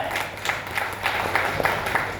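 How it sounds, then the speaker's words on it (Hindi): An audience at a company talk about data centres breaks into applause: a steady patter of many hands clapping, fairly close and continuous, with a faint murmur of voices underneath. "तो ये 4 डेटा सेंटर के लिए वापस एक बार जोरदार ताली हो जाए"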